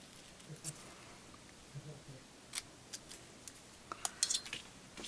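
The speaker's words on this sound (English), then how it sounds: "you're going to just cut little flags in the end there" Scissors snip small flags into the end of a paper scrap for a handmade card, a series of quiet, close, crisp cuts spaced irregularly, clustering toward the end, with no talking.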